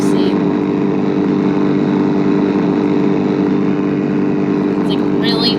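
Loud, steady engine drone from racing cars idling in a driving video game, a constant buzzing hum with brief higher tones near the end and speech faintly present.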